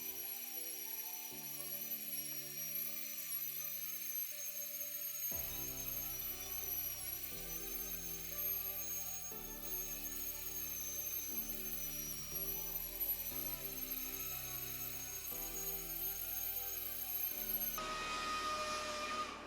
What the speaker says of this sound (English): I'm going to get most of the sanding done now with the DA